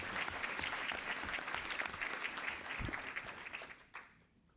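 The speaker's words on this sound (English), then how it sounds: "I think we should give Margaret a round of applause." An audience at a business school healthcare breakfast gives a round of applause, a busy spread of claps that carries on steadily and then thins out and fades near the end.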